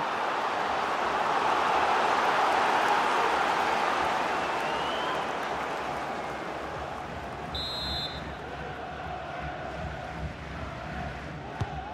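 A football video game crowd roaring behind their team, a loud sustained swell of massed cheering that builds then eases slightly, with a brief whistle-like tone partway through.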